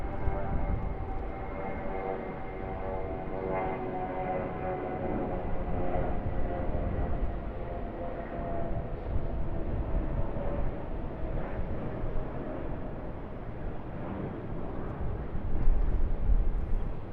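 Jetstar Airbus A320 departing Sydney Airport, a sustained jet engine roar heard from a distance that swells and rumbles steadily and builds slightly toward the end.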